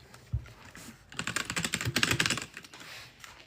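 Rapid typing on a computer keyboard, a dense burst of clicking keystrokes lasting over a second, preceded by a soft thump and fading to a few scattered taps, with no speech.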